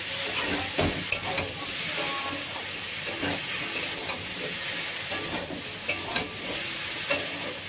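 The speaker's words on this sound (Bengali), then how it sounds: "এটাকে এবার সুন্দর করে ভাজবো।" Okra and yardlong beans frying with browned potatoes in an oil-filled pan, a loud steady sizzle and hiss with intermittent stirring scrapes, close up and without talk.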